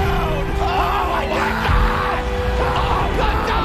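A large arena crowd in the TNA Impact wrestling video game intro yells and cheers in a steady, loud roar, with whoops and shouts rising over a constant wash of noise.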